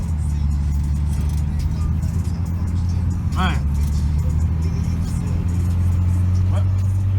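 Chevrolet S10 pickup truck driving with a steady, loud low engine drone throughout, someone talking over the cabin rumble.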